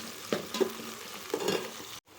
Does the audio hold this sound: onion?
yes